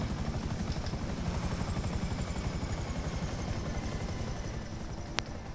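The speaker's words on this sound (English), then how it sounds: "Try not to get chopped up by a chopper either." A helicopter in the video game GTA V thumps steadily with rapid rotor chop over a dense engine drone, continuous and fairly loud, ending with a short sharp click.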